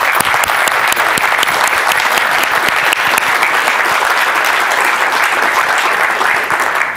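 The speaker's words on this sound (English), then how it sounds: "join me in giving him a quick round of applause" An audience at a Heritage Foundation policy event on Sri Lanka applauds the foreign minister: loud, even, sustained clapping from many hands, unbroken from start to finish.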